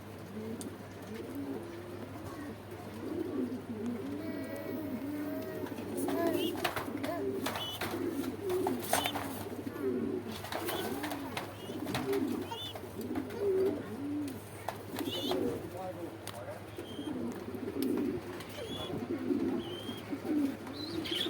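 A pair of Black Beauty pigeons coos repeatedly at an exhibition, their soft rolling calls continuous and fairly close, with a steady low hum and occasional rustling and clicks in the background.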